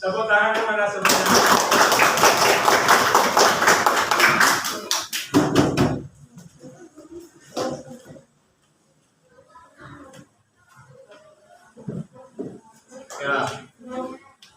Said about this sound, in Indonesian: tepuk tangannya mana semuanya?